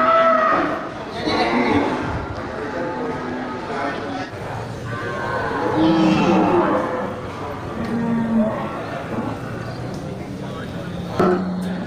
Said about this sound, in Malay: terlihat ini beberapa ekor sapi jantan ya, dari jenis sapi simental super ya